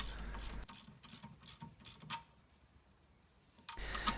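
Nut being tightened with a ratchet on the track rod end of an Opel Zafira, a close series of quick mechanical clicks that slows and fades, with brief handling noise at the start and end.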